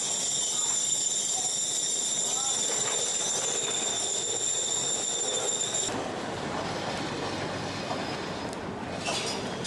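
A Lisbon tram passing along a street in the Bairro Alto area, with a continuous rumble and high metallic wheel squeal or whine, steady and fairly close throughout, with outdoor street ambience.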